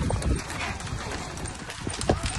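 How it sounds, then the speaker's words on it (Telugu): A bullock cart rolls along a village road, with hooves clip-clopping in a steady, busy rhythm amid rumbling wheels and outdoor noise, and voices murmur faintly underneath. "చూడండి ఎద్దుల బండ్లు ఎట్లా పోతున్నాడో పిల్లోడు"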